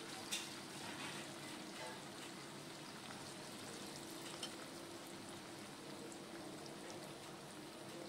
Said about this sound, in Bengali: একটু গ্যাসটা কমিয়ে নিয়ে ভাজলে চিকেনটা তাড়াতাড়ি সেদ্ধও হয়ে যাবে।